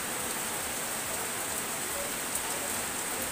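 Steady rain pours down in a dense, unbroken hiss, fairly loud and constant with no voices.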